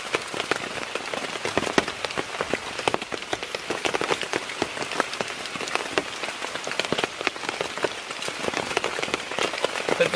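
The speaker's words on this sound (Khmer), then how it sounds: "មកបោះតង់កណ្ដាលភ្លៀងនេះ" Steady rain patters on a tent pitched at a forest temple in Prey Lang, a dense, continuous drumming of drops with sharper taps throughout, close and loud, with no talking.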